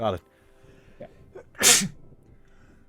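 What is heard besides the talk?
sneeze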